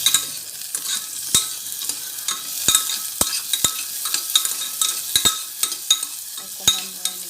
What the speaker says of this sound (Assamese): অকণমান মই এনেকৈ ভাজি লওঁ